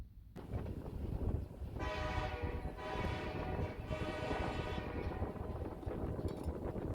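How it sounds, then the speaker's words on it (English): Alaska Railroad's Coastal Classic train arriving at Seward station from Anchorage, with a steady rumble and a sustained horn blast that swells twice, heard at moderate distance. "The train that arrives in Seward is Alaska Railroad's Coastal Classic train that comes from Anchorage."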